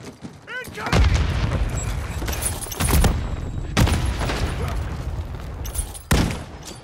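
Bursts of gunfire and booming explosions in a military shooter video game, loud and dense with heavy impacts recurring every second or two, over a steady din of battle.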